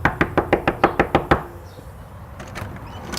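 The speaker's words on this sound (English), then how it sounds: "It's a pretty intense door knock." Someone raps hard on a house door during dog training: eight quick, loud, evenly spaced knocks close by, then quiet room tone.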